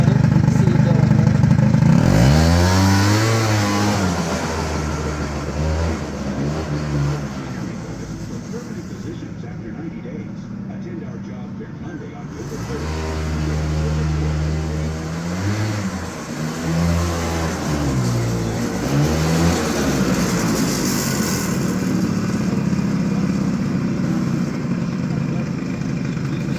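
An Arctic Cat 90cc snowmobile engine pulls away, its small motor revving up in rising and falling surges, dropping briefly, then climbing again; loud and close throughout.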